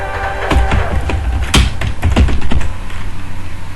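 Fast typing on a computer keyboard, close and crisp, with dense irregular key clicks and a few heavier keystrokes, no voices.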